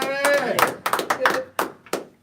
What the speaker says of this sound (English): Make some noise. Clap your hands.